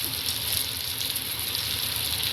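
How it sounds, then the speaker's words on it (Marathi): Newti fish coated in flour with masala, turmeric and salt fry on a hot griddle, giving a steady loud hiss and sizzle that runs unbroken and close up, with no talk. "सगळ्या न्यूट्या आता मी टाकून दिल्यात तव्यात"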